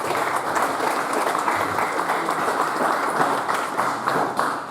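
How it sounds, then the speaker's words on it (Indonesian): An audience at an Al Khairiyah ceremony installing nine autonomous bodies breaks into dense, sustained applause, with many hands clapping steadily and loudly throughout. "Tepuk tangan untuk semua."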